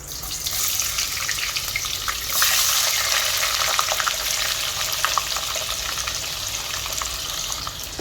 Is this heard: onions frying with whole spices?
yes